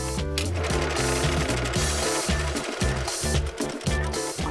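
A sewing machine stitches a half-inch seam, its needle chattering in fast, even bursts with brief pauses between runs, close and loud, with no talking over it.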